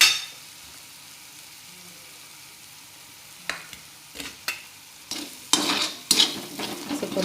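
Bitter gourd tikka masala sautéing in a generous amount of oil, quiet at first, then a series of loud, close scraping stirs against the pan over a low sizzle.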